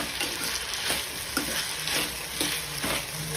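Tomatoes and onions sauté in a kadai with a steady sizzle, while a spoon stirs them in regular scraping strokes roughly every half second.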